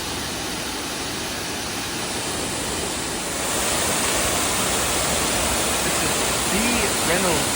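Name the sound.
R.B. Ricketts Falls, a double waterfall in Ricketts Glen State Park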